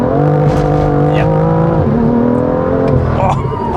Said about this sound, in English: just got onto a really nice smooth road and you can hear the tyres now